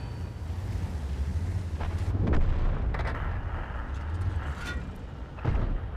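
Tank cannon fire and shell impacts in World of Tanks, heard as two heavy booming blasts a few seconds apart over a constant windy rumble.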